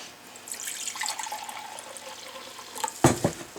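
White vinegar mixed with an equal cup of water for pickling eggs, with liquid pouring into a container in a soft steady trickle that ends in a brief louder splash near the end.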